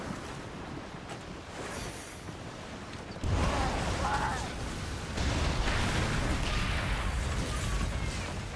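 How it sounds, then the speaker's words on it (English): A mortar fires from a ship at sea in Skull and Bones, a sudden heavy boom that lifts into sustained loud rumble over wave and hull noise, with a second swell of blast noise a couple of seconds later. "this is when you can use the mortar"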